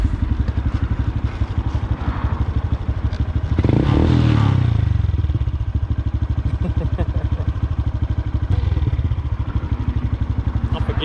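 Honda Grom motorcycle ridden close by, its engine running steadily with a loud rev burst in the middle, then settling back to a steady drone with some light mechanical clatter.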